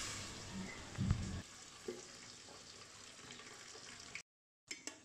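Beef frying with onions in a pan for halim, a soft continuous sizzle with a few louder stirring clatters and a brief gap of silence near the end.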